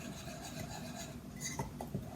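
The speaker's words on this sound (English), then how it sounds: "Now I'm just going to use my regular spoon and stir it all together." A regular spoon stirring confetti mug cake batter with sprinkles in a mug, a steady close scraping and rubbing with a few light clinks of the spoon against the mug near the end.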